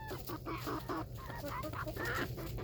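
Backyard chickens, including roosters and hens, cluck and chatter in a steady cluster of short calls close by, with a constant low background hum and no talk.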